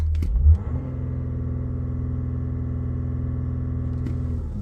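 A car engine revs up sharply toward its soft rev limiter, then holds at a steady high-pitched drone that plateaus as if capped, before easing slightly at the end.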